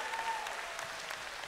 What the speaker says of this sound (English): Give Pastor Marco a round of applause.